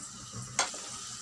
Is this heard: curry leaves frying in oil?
yes